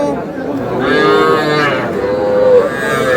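A young bull calf lets out a long, loud moo that rises and drawls on, nearby and clear, with no voices, at a cattle farm in Gazipur.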